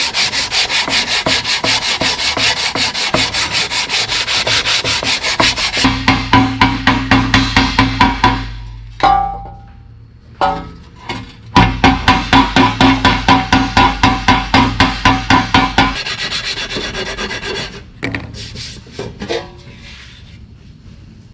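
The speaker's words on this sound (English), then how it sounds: "Let's get some sandpaper on it." Hand sanding of a dented metal valve cover with sandpaper, steady rhythmic rubbing strokes in close, loud bursts with brief pauses, no talking.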